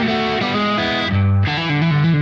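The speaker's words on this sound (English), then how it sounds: "I had a drive pedal that I put in, and I used the fuzz pedal." Electric guitar played through drive and fuzz pedals, a thick distorted tone with a few sustained notes and a low bend, loud and alone with no talk.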